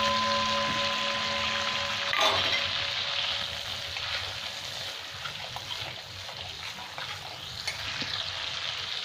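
Whole cumin seeds with star anise, cinnamon pieces and cloves fry in hot oil, giving a steady broad sizzle with a sharp crackle burst near the start, all close and unbroken without talk.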